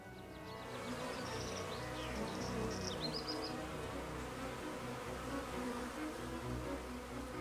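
Honeybees buzz steadily among flowers in a field, a dense continuous drone of many insects close by, with faint high chirps from birds briefly in the background.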